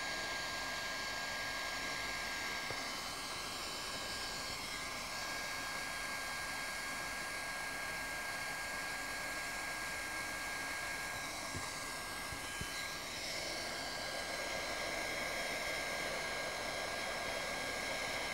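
A heat gun on a low setting warms a patch on a wine press membrane, giving a steady, even blowing hiss that runs unbroken and fairly close for the whole stretch, with no talking.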